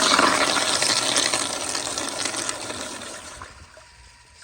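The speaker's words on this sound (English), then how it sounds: "Here is another flush." A 1999 Kohler Highcrest toilet with a flushometer valve flushes with a loud, close rush of water that gradually subsides to a quieter trickle and refill, no voices.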